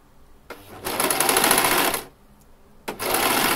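A sewing machine stitching fabric and elastic, two steady mechanical whirring runs, the first longer, close and loud with a quiet pause between.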